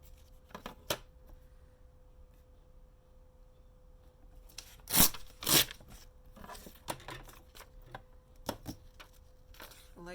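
Scissors or a blade cutting across printed music paper from an altered book, a few quiet snips and rustles with a louder crisp tearing cut midway, close and alone in a quiet room.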